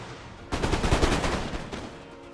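Troops of the Netherlands faction open fire from a wall in a strategy war game, a sudden massed musket volley that erupts into a dense, loud crackle of overlapping shots, then decays over about a second.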